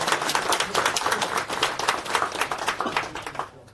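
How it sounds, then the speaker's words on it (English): A conference audience applauds before the final talk of the day on deep learning for source code, a lively patter of many clapping hands that stays steady, then fades quickly to quiet in the last half second. "please round of applause for the last talk of the day"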